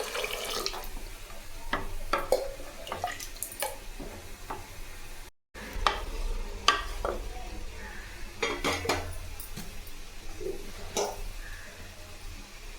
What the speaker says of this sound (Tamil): இப்போ தண்ணி கொஞ்சம் சேர்த்துக்கலாம்